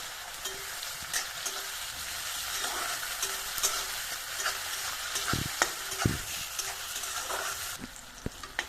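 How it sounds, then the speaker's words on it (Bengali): Onions fry in a pan for a Bengali-style jackfruit curry, a steady sizzling hiss broken by repeated scraping and clinking of a stirring spoon. "পেঁয়াজটাকে আমি একটু লাল লাল করে ভেজে নেব।"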